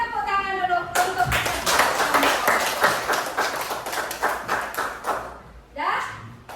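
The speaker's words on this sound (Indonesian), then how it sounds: "sebelum kita main tepuk tangan dulu" A class of children claps hands together in a classroom, a loud rapid burst of many claps lasting several seconds that fades out. A teacher's voice is heard before the clapping and again at the end.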